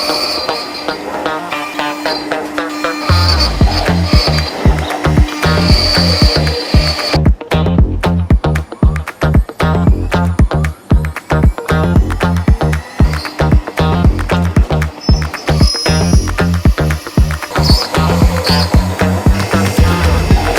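A CNC router with a tapered ball nose bit carves walnut for an inlay. The close, loud mechanical chatter runs on rapid and continuous, with a rhythmic clicking pulse that steadies after the first few seconds.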